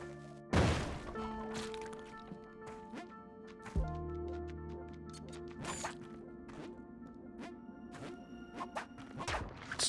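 Bombs going off in a labyrinth level of a video game, several sharp booms and whacks scattered over game music and clicking effects, moderately loud and without talk.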